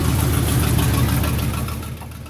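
A battered Dodge truck with a 360 engine runs outdoors after an off-road breakdown, a steady low rumbling idle that stays close and fairly loud before easing off slightly at the end.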